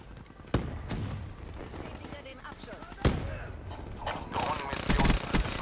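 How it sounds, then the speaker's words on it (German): Gunfire in the shooter game Call of Duty: Black Ops 3, with sharp shots near the start and around the three-second mark and a burst of rapid fire toward the end, over constant game noise and a talking voice. "Kennt ihr das, wenn man andauernd von irgendwo angeschossen wird?"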